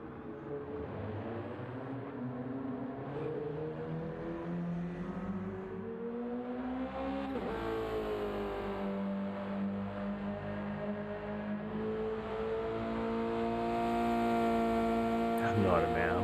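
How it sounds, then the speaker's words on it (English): A Subaru BRZ race car on a circuit outlap drives with a steady, harmonic engine drone that rises and falls with gear changes and swells louder toward the end, heard continuously from onboard. "These BRZs really do sound good."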